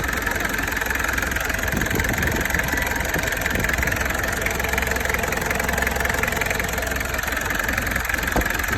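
Isuzu 4DR5 diesel engine idling, a loud, steady clattering rumble with a rhythmic knock running throughout, close by.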